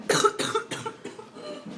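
Several harsh coughs in quick succession from a person doing the cinnamon challenge, close by, fading slightly toward the end.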